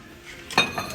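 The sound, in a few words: plate and bowl of dinnerware set clinking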